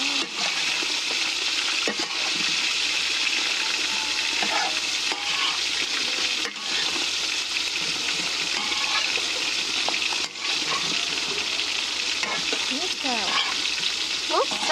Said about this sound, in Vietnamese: Ôi, tỏi vàng rồi, cái mướp vô. Xào xào.